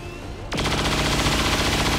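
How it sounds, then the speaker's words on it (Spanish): Silence breaks at once into a sustained burst of rapid-fire gunfire in the video game XCOM 2, a chain shot, a dense, loud rattling chain of shots that carries on steadily to the end. "Voy a intentar un disparo en cadena."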